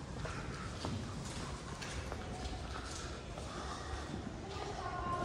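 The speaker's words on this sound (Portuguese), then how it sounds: "Olha o cavalo, entrou." Horse hooves clip-clop on a hard surface amid a dense, noisy crowd with voices talking throughout, the footfalls loose and irregular rather than a steady gait.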